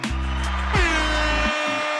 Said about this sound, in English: Oh, and an air horn